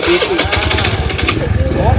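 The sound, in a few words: motorcycle starter cranking the engine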